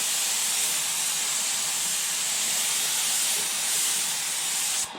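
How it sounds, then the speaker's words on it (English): An airbrush spray gun mists a fine fog coat of paint onto a 1:350 scale Polar Lights Enterprise model kit, making a steady, close, continuous hiss that cuts off abruptly at the end. "So I'm just going to go ahead and start spraying it and not talking."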